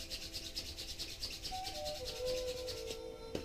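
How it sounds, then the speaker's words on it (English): Palms rubbed together fast and hard, making a steady rapid swishing friction that runs continuously at close range, quiet and without talk. "rubbing hands really together as fast as you can and generating loads of heat"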